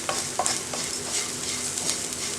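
Onions sautéing in a pan for a spinach stir fry, with a soft steady sizzle under scraping, clattering stirring strokes at an irregular rhythm, close and moderately quiet, no voices.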